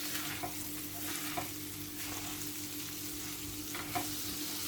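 Rice and vermicelli toast in butter in a pan with a low, steady sizzle and faint stirring scrapes for Turkish vermicelli pilaf, with no voices.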